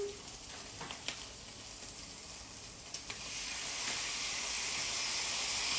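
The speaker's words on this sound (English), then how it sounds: "once the onions and Spam are a little bit cooked, we're gonna go ahead and put the kimchi in." Kimchi goes into a pan of frying onions and Spam, and a soft sizzle is heard that swells into a steady, stronger hiss partway through, with a few faint clinks near the start.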